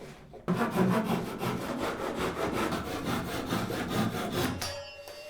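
A hand saw cuts off a piece of wood with quick, even back-and-forth strokes, loud and close, a steady rasping rhythm of roughly twenty strokes before it stops.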